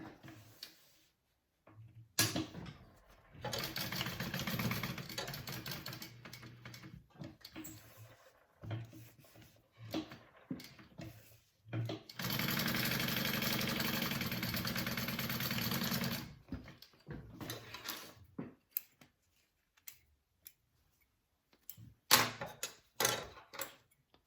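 A sewing machine stitches a bag seam with a 3/8-inch allowance in bursts of steady motor whirring, some several seconds long, separated by short pauses and small clicks, close and fairly loud.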